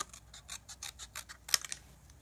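Paper card stock is cut straight across by hand with scissors, a series of about ten soft, rhythmic snips close by, ending in a slightly sharper cut, with no talking.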